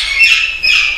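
Local birds at a large bird nursery in Namangan squawk loudly and continuously in two harsh bursts, close by, with no voices.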